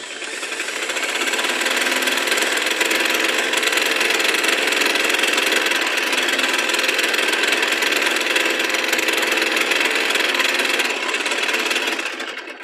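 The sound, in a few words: sewing machine stitching blouse back cloth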